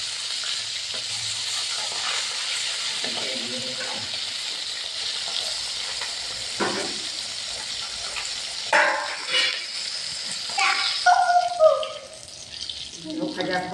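Puti fish frying in oil, a steady low sizzle with stirring and utensil clinks against the pan, getting busier toward the end, with brief voices talking close by.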